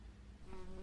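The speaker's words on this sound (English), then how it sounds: "I hear a mosquito." A mosquito whines close by inside a sailboat cabin at night, a steady thin high-pitched drone that swells louder partway through and holds for under a second.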